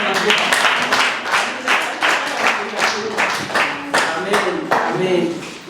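A church congregation at TAG Digidigi Shalom claps for the Lord, a steady crowd applause with rhythmic beats throughout, loud and close, mixed with voices.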